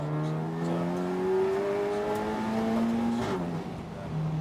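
Race cars from the 750MC Roadsport series pass on the Snetterton circuit, engines revving loudly and close with rising and falling pitches as several cars go by in quick succession.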